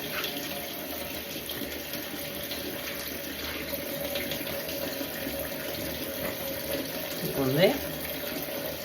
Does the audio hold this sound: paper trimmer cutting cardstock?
no